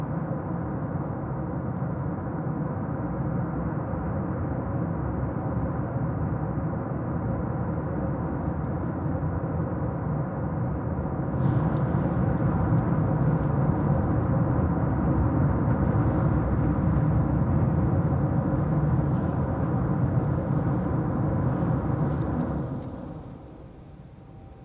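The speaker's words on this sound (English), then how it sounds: "Here is another thrust vector control from April 5th on the tripod test stand" A SpaceX Starship thrust vector control test on a tripod test stand produces a continuous, loud broadband engine roar that holds steady, swells partway through, then drops off sharply near the end.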